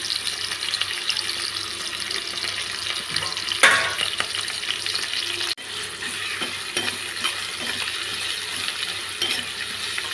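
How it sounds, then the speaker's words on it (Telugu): Chopped onions and curry leaves fry in oil in a pan for an eggplant fry, a continuous close sizzle with a sharp clatter partway through and a brief knock later. "దీనిలో కట్ చేసి పెట్టుకున్న ఉల్లిపాయ ముక్కలు వేస్తున్నాం. దాంట్లోనే కొంచెం కరివేపాకు వేస్తున్నానండి."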